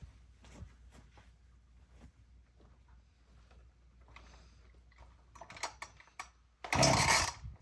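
Someone tries a cold start on a chainsaw: a few faint mechanical clicks and rattles, then a brief loud burst as the engine catches or sputters near the end.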